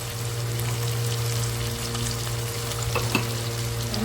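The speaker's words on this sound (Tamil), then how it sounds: "வெங்காயம் போட்டாச்சு இப்போ கொஞ்சம் நல்லா வதக்கிடலாங்க" Onions sautéing with salt in a pan for mutton biryani, a steady close sizzle and crackle with a low hum beneath, with a couple of brief stirring clicks near the end.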